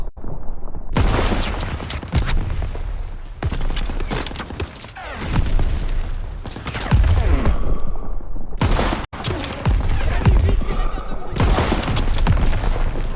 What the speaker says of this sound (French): Daniel, tire dans les réserves de munitions!